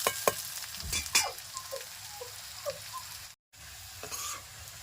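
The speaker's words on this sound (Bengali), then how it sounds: "পেঁয়াজ লঙ্কাটা ভাজা হয়ে গেছে," Onions and green chillies fry in a pan with a soft sizzle, broken by sharp scraping stir strokes near the start and scattered clicks, quiet overall with a brief dropout near the end.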